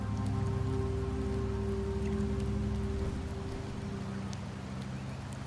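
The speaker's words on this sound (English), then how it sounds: "The rains in Septimont never seem eager to leave this season." Rain falls steadily in a video game scene, a dense even patter under a low constant hum, slightly easing toward the end.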